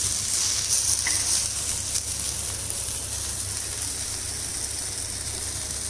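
Mushrooms sizzling on a hot tawa for a mushroom tawa fry, giving a steady, bright frying hiss that holds evenly throughout without any talk.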